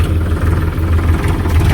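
A tractor engine runs close by while hauling a load of cotton, giving a loud, steady low rumble with a throbbing idle-like pulse throughout.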